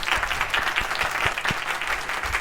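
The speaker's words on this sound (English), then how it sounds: "Let's get one last round of applause for Neal." A small studio audience claps for a guest on a game-industry show, a steady burst of nearby hand claps lasting a couple of seconds.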